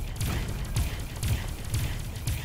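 Heavy cannon fire from a spaceship battle in the space game Avorion, a rapid run of deep, booming blasts repeating about every half second, loud and continuous with no talk.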